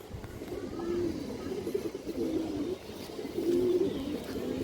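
Pigeons on a pigeon farm that keeps coloured, racing and high-flyer breeds coo in repeated low, throaty phrases. The cooing rises and falls steadily over soft background rustle, nearby and moderately loud.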